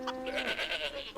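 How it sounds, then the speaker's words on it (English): Sheep bleating in the Minecraft modpack Dawncraft, a single wavering, nasal bleat lasting about a second, fairly close and clear. "Some sheep in there."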